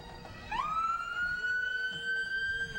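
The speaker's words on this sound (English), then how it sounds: "It's not a parade in Port Alberni without sirens, too." An emergency vehicle siren rises sharply and holds a steady wail during a Canada Day parade in Port Alberni, fairly close and clear over low background crowd noise.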